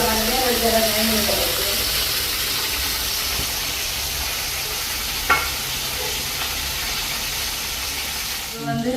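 Large chicken pieces fry and are stirred in a pan in a Jaffna village kitchen, a loud continuous sizzle and hiss with scraping stirs and a brief clank near the end.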